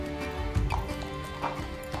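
Camargue horses' hooves clip-clop on the ground near the Sainte-Marie-de-la-Mer marshes as the horses are readied, a few irregular knocking steps over a steady low background hum.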